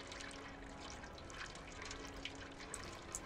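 Soft water trickling and dripping in the Stray video game, a faint continuous flow with a few small drip accents, quiet and alone.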